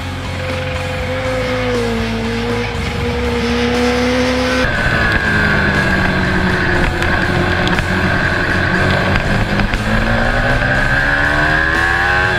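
A 2015 Kawasaki Ninja H2 motorcycle screams down a speedway straightaway, its engine whine climbing through the gears with a sharp shift partway through, loud and sustained over heavy wind rush.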